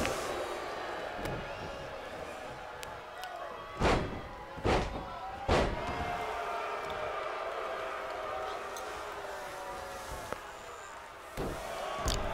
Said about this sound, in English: Huge power bomb.